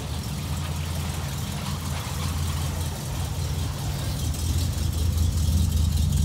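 A 1967 Ford Mustang engine running at a steady idle, a deep, continuous low rumble close by that swells slightly toward the end, with no talk over it.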